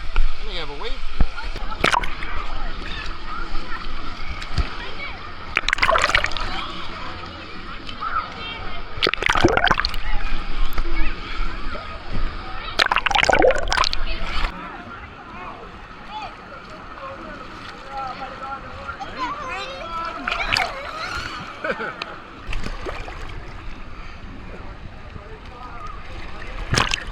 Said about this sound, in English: We have a wave pool.